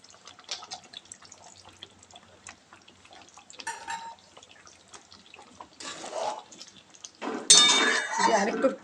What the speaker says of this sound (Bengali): এই জায়গাটা ধুয়ে একটু গরম জল দিয়ে দেবো।